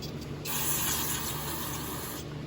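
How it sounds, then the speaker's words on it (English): Carburetor cleaner sprayed into the float bowl of a 2012 Murray lawnmower carburetor on a Briggs & Stratton 140cc engine, a steady close aerosol hiss lasting about two seconds with no talk. "rinse out the bowl with some carb spray."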